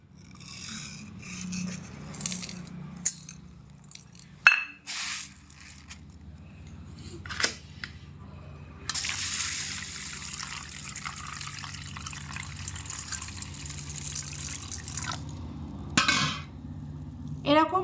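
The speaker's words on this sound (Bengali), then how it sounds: "মুসুর ডালটা আমি এখানে দুই থেকে তিনবার জল পাল্টে পাল্টে খুব পরিষ্কার করে ধুয়ে নেবো" Red lentils are washed by hand in water, with close splashing, sloshing and swishing in a bowl, occasional clinks and bursts of water, continuous and fairly quiet.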